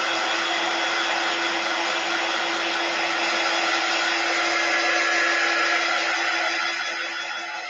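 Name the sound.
dryer drying ink on card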